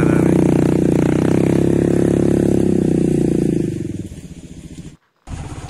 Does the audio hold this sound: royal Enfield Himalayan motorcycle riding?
yes